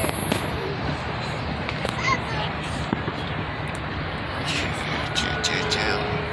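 Fourth of July fireworks pop and crackle outdoors over a constant background rumble. Bursts of sharp crackles come toward the end, with people talking nearby.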